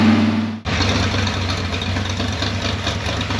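A 1966 Chevrolet Biscayne engine idles after cam break-in, with a vacuum leak and a ticking on one side. After a brief cut, a loud, close, steady rumble continues with a busy, slightly clattery texture.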